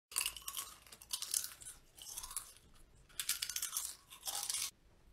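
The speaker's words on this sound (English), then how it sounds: "Can you stop chewing so goddamn loud?" Loud, close crunching of crispy chips being chewed in bursts, with short pauses between mouthfuls and no talking.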